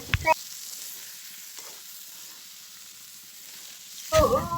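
Grated coconut with turmeric is stir-fried in a pan with a faint, steady sizzle under louder scraping and clattering from stirring at the start and end.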